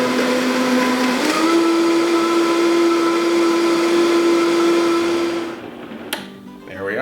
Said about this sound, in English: Let's do some blending.